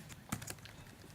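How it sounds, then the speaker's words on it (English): A Mac keyboard shortcut typed during iOS app coding: a quick cluster of two or three soft key clicks, close but quiet over faint room noise, with no voices. "I have just pressed command shift O from my keyboard"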